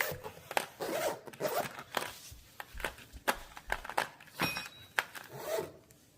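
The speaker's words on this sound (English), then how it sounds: "Zip it up." A zipper on the fabric cover of a vintage-style bed bench pulled in a series of short, scratchy strokes, irregular rasps close and clear over a quiet room.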